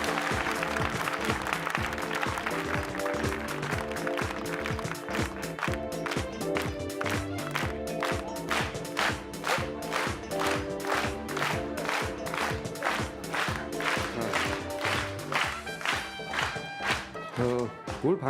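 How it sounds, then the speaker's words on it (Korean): A studio audience at a Korean talk broadcast claps and cheers, with dense applause at the start that settles into steady rhythmic clapping in time with music, fairly loud and continuous. "박수 소리도 뭐 지금 굉장히 간단한 거거든요"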